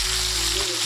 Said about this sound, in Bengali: মাথাগুলোকে ভালো করে ভেজে উঠিয়ে নেব।